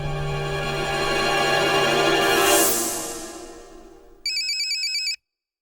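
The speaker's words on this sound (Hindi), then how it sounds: "अरे मुख्यमंत्री जी का फोन" A phone rings with a call from the chief minister. A melodic ringtone rises, then fades away, followed by a short burst of bright, pulsing electronic ringing that cuts off abruptly.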